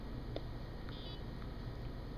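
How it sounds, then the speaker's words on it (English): A short electronic beep tone from a MAGLOCK magnetic base controller rises briefly above a steady low hum, followed by faint, softer blips. "When I hit the button, you're going to hear another beep."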